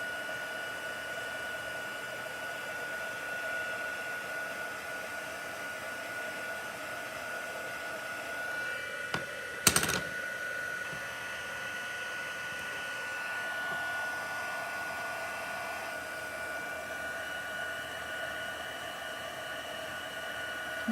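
Heat tool blowing hot air over a stamped image during heat embossing, a steady whirring hiss with a whine, held close and constant throughout, with a brief clunk partway through.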